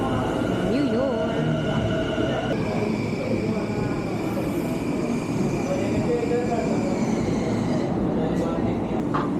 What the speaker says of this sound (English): So you can see The train is here.